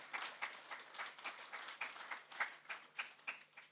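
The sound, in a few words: applause for parents at a school graduation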